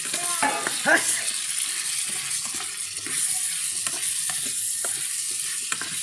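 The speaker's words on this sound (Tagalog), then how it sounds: "Ngayon may paminta na. Hahaluin." Menudo is stirred in a sizzling pan after pepper goes in, with a spoon scraping and knocking against the pan in irregular strokes over a steady frying hiss, close by.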